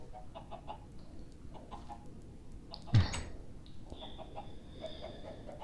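Chickens cluck in the video game Minecraft, a few short clucks against a steady game background, with one louder sharp sound near the middle and a faint tone afterward; no voices.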